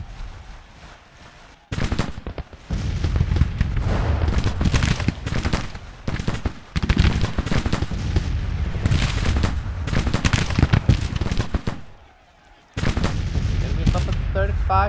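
Soldiers in a war game unleash heavy, sustained volleys of musket and rifle fire, loud and continuous with two brief drops into near-silence before the shooting resumes.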